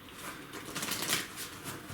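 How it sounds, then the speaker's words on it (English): A deck of playing cards is shuffled, with a steady crisp riffling and fluttering of paper edges over two seconds, fairly close and continuous, with no talk. "You would ask your spectator to give the cards a good mix."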